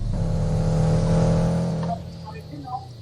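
Toyota Supra MK4 engine revving in the Roblox racing game Midnight Racing, a loud sustained drone that holds steady and then drops away, with a few brief higher tones after, under a voice talking.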